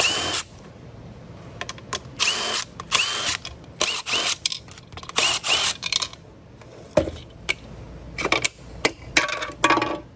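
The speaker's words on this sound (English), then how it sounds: "in order to get to the hose, we're gonna have to undo all these screws. For that, I'll use my trusty impact" An impact driver backs screws out of a Kenmore Crossover Max powernozzle, loud close bursts of rattling whir, each about a second long, repeated many times with short pauses, alone without talk.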